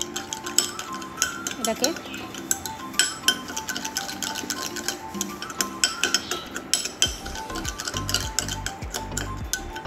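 A spoon clinks and scrapes steadily in a bowl while stirring a creamy mixture for a homemade skin treatment, close by, with someone talking over it.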